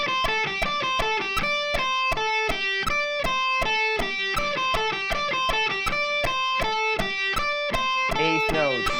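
Electric rock guitar plays a fast, even run of picked notes in steady eighth-note rhythm at 160 BPM, with a slight distorted edge, ending in a quick slide.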